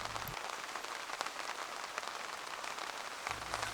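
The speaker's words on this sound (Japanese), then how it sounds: "冷たい雨で体力が奪われるけど" Cold rain falls steadily on surfaces around a car-camping spot, a dense continuous patter with scattered louder drops close by, no voices.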